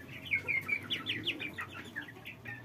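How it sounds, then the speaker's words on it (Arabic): Domestic village chickens cluck in a quick, uneven series of short, bright calls with a few higher chirps mixed in, fairly close and over a low background murmur, with no talking. "دي الفراخ بتاعتنا البلد"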